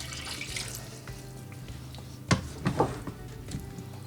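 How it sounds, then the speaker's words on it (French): A cup of water poured over bananas and red beans in a pot while making Ugandan katogo, a soft steady splashing stream with a few louder sloshes near the end. "je termine en ajoutant une tasse d'eau"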